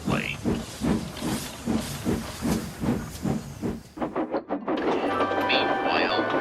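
Steam engine Emily puffing away: a rhythmic run of steam chuffs, about a dozen even puffs, followed by a steady hiss of steam with faint whistle-like tones near the end.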